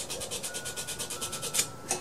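A sturdy abrasive strip is drawn back and forth across lawn mower ignition contacts, a quick, even series of soft close-up rasping strokes, about a dozen in rapid rhythm, faint and alone.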